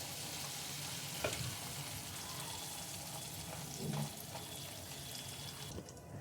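Pieces of spicy boneless KFC-style chicken fry in hot oil on a stove, giving a steady, close crackling sizzle throughout with a few louder pops and spatters and no voices.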